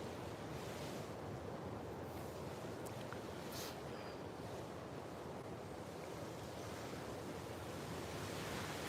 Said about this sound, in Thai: ฟังเสียงคลื่นธรรมชาตินะจ๊ะ